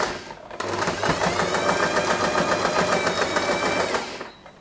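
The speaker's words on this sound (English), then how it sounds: "So I will put it like this, and we are going to sew this part." Sewing machine stitching a long-tail fabric scrunchie indoors, a steady rapid motor whir with fast rhythmic needle clatter running for about three seconds before stopping, close and fairly loud.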